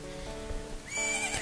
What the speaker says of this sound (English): Oh, it's a horse. Isn't that your horse?